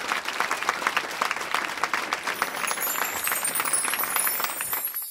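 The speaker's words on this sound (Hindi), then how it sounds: "कार्यक्रम स्थल पर मौजूद लोगों की भारी मात्रा में तालियों की गूंज" A crowd at a flag-hoisting ceremony bursts into sustained applause, dense clapping that stays steady and then fades out at the end, heard alone without speech.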